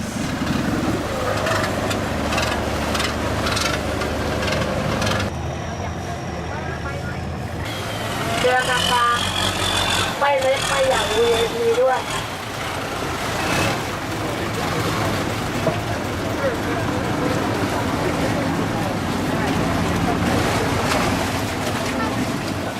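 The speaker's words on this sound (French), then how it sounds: "barques équipées d'énormes moteurs de camions installés sur la plage arrière" A Thai long-tail boat driven by a huge truck engine mounted at the stern, with a long propeller shaft, roars steadily close by on a Bangkok canal, the heavy motor drone mixed with water wash and some voices.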